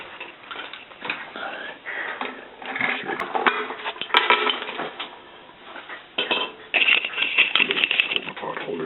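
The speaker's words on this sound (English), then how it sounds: "Pull the pot holders out. Put it on." A metal camp pot and pot holders clink and scrape against a wood gas backpacking stove, with irregular close metallic rattles, taps and clatters coming in short bursts.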